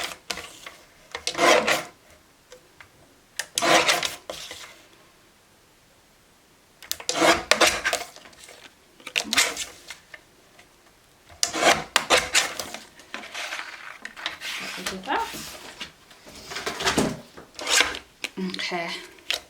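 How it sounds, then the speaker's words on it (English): Scissors trim around a cardmaking piece in repeated short snipping and rasping bursts with quiet gaps between them. "we're just going to trim around. And just trim until I'm kind of happy with that."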